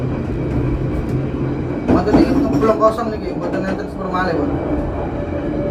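KA Harina passenger train departing Cikampek station, heard from on board as a steady low rumble of the moving carriage under nearby conversation between passengers.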